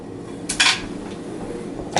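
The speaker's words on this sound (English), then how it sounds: "let me see if I can scoop this out with a spatula" A spatula scoops doughnut batter out of a mixing bowl. It gives a few short, bright scrapes and clinks against the bowl, close and fairly loud, with quiet pauses between them and no talking.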